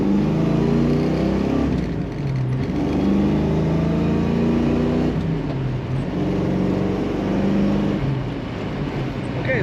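1969 Ford Mustang Fastback with a 5-speed gearbox driving along, a loud steady engine drone heard from inside, with pitch rising through the gears and dips at each shift near two and five seconds.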